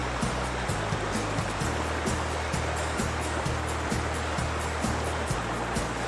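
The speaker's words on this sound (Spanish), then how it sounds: "Qué bonito suenan los pajaritos, el río." A river flows steadily with a broad rushing wash of water, and faint bird chirps may sit within it; a regular low pulsing thump repeats throughout.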